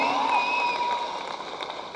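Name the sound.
audience applause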